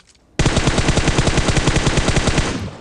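An M4 rifle in PUBG Mobile fires a sustained rapid automatic burst of around twenty shots, loud and close, ending with a brief fading tail.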